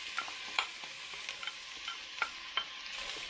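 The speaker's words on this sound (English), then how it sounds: "We're going to saute these until the vegetables, the onions are soft and kind of translucent." Chopped vegetables and onions sauté in a pan for a cream of chicken soup, a soft, steady sizzle broken by several sharp scraping and stirring clicks, with no voices.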